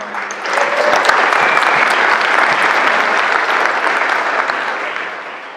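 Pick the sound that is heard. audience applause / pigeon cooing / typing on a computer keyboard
audience applause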